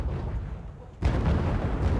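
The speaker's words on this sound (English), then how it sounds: "The Mi-84A can take full advantage with that 125mm cannon." A Mi-84A tank fires its 125mm cannon in the Wargame: Red Dragon strategy game: a quiet low rumble, then one sudden loud boom that rolls on as a heavy, sustained roar.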